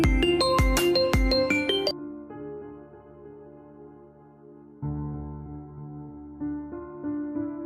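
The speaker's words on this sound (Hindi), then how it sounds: "फ़ोन बजता है" A mobile phone rings in an animated horror story with a melodic electronic ringtone. Bright tones repeat loudly in short phrases separated by brief pauses, and no talk is heard.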